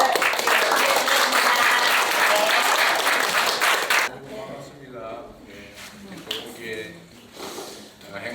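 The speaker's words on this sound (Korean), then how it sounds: "우리 다 같이 큰 박수로 환영의 박수" A welfare centre audience welcomes the president and first lady with loud, dense applause for about four seconds, then it gives way to chatter and talking.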